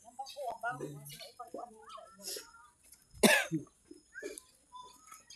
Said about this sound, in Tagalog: Inuubo ako guys